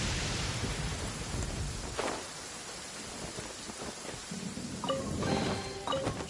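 Rain pours steadily with low rolls of thunder in the video game Genshin Impact, a loud dense hiss that eases slightly midway before picking up again, with a few light clinking tones near the end.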